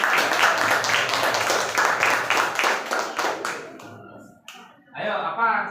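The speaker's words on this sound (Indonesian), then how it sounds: "Ayo kasih aplaus semua" A classroom full of students applauds together, a dense, steady run of clapping that thins out and fades, followed by a short burst of voices.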